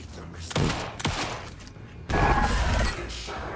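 Gunshots in the horror shooter game Alan Wake 2, a few sharp reports spaced apart followed by a heavier blast with a lingering rumble, close and loud.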